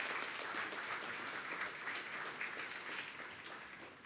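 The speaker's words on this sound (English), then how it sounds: "a round of applause to our guest of honor" Applause from an audience, a full sustained clatter of clapping that slowly fades toward the end, with no speech over it.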